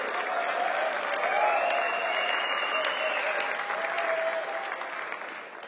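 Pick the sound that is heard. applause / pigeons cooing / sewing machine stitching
applause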